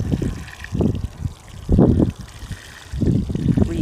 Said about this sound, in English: I'm gonna pour it over the top of my cocoa coir.